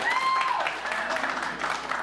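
Audience applause at an improv comedy show: a dense wash of clapping from a crowd that holds steady for about two seconds, with a brief whistle-like tone at the start.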